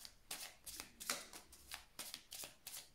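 A deck of oracle cards riffled and drawn by hand, a string of soft, close papery flicks and slaps in irregular bursts, quiet and without talk.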